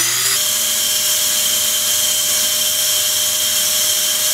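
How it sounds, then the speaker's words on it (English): Loud, steady roar of a vacuum running with a constant hissing blast of walnut-shell abrasive spray, cleaning a BMW N54 engine, close and continuous until it cuts off at the end. "get the vacuum on, start spraying walnuts."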